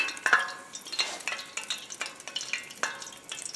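Boneless chicken thighs crackle and spit in a pan over a moderate flame, a close, steady sizzle with bright popping bursts and no voices.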